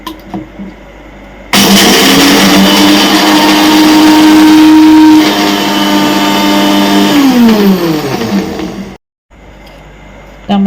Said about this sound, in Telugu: మిక్సీలో వేసుకొని గ్రైండ్ చేసుకుందాం.